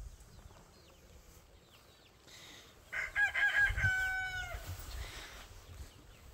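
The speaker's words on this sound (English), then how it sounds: "Leave that chicken alone." Chickens on a homestead: a rooster crows loudly and close, with drawn-out tonal calls, after softer clucking and faint rustling, over quiet outdoor ambience.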